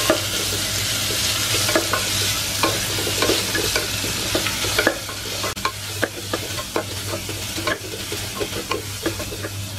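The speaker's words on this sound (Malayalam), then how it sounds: "ഉള്ളി നല്ല പോലെ നമുക്കൊന്ന് വഴറ്റിയെടുക്കണം." Onions sautéing with salt in a pan sizzle steadily while a spatula scrapes and taps the pan in a loose, repeated rhythm, close and clear with no talking.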